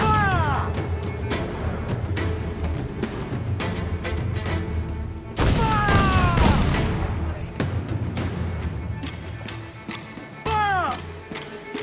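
Naval cannon broadside from a ship in the video game Assassin's Creed Black Flag, loud booming blasts in repeated volleys with rushing whistles, over shouted crew orders and game sound.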